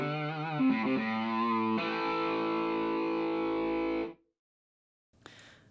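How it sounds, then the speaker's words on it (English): A distorted electric guitar sample with chorus-like effects rings out as sustained chords for about four seconds, stops abruptly, then a brief noisy tail follows after a short silence. "let me first of all play the three guitar sounds to you"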